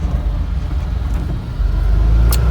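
A 1993 Suzuki 4x4 Japanese mini truck drives on asphalt, a loud, close low engine rumble and road noise that swells slightly toward the end, with no talking.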